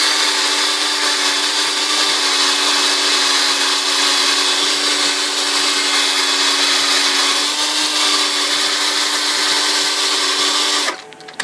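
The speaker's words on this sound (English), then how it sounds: "I just want to sand this some more still." A power sander grinds steadily on the bezel of a Nintendo arcade button, a loud continuous whine with a low motor drone that holds for about eleven seconds before cutting off abruptly.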